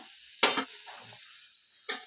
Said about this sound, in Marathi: तेलावर आवळे फ्राय करून घ्यायचे